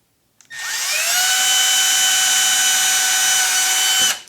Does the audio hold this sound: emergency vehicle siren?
no